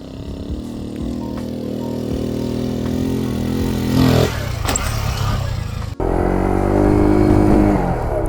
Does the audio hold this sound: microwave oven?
no